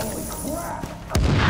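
A grenade detonates in The Division during gameplay, a sudden low boom near the end that rises over ongoing game sounds and background noise.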